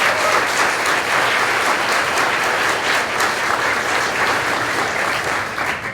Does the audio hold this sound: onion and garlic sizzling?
no